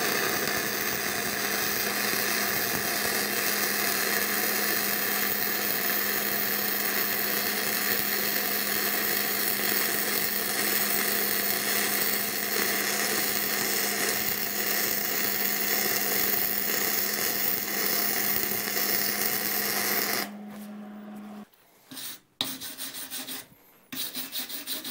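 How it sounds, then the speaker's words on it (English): Hobart 210MVP MIG welder laying a flux core weld, a loud continuous crackling sizzle held steady for about twenty seconds before cutting off, followed by a few short clanks. "We are ready to weld. We're going to start with our flux core."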